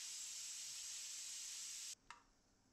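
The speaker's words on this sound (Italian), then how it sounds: "apro la valvola di sfiato della pentola a pressione" Steam venting from the release valve of a pressure cooker holding hen broth, a loud steady hiss that cuts off abruptly, followed by a brief click.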